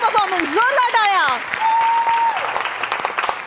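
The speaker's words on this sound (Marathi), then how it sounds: "मस्त झाला परफॉर्मन्स, जोरदार टाळ्या" Loud audience applause at a Marathi stage comedy show, a dense burst of clapping with a voice sounding over it at the start.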